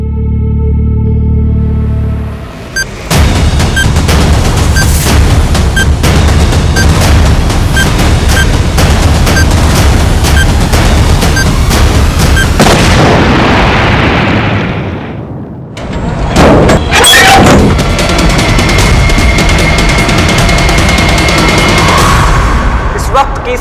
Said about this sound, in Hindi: वहां एक घर में बॉम्ब विस्फोट हुआ है